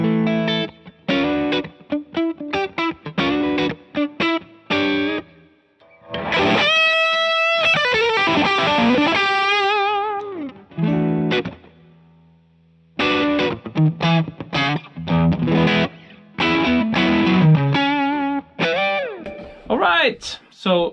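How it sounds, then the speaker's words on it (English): An electric guitar played through a One Control Dyna Red distortion pedal, with bursts of chords and sustained bent notes, loud and close, separated by short pauses. "Even with the distortion on full, you can get a decent clean sound."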